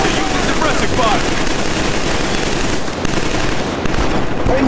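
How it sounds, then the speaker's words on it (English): Continuous suppressing gunfire in the video game Killzone 3, dense automatic bursts and booming shots packed together at a loud, steady level with no pauses, a full battlefield wall of rapid fire. "Watch for you, suppressing fire."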